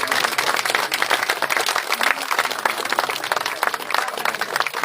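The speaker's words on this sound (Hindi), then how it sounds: "जोरदार तालियां।" Audience at a Women's Day gathering applauding, a dense steady patter of many hands clapping indoors throughout, fairly loud and without pause.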